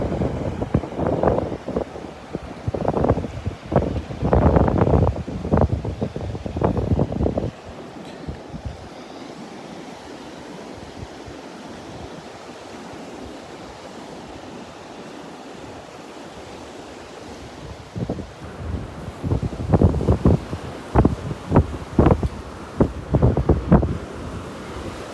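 Steady surf washes ashore at the pass on a windy, rough morning at Delnor-Wiggins beach, with heavy gusts buffeting the microphone at the start and end; no speech.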